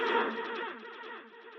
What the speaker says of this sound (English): hybrid reverb, special effects. Let's listen to some of these.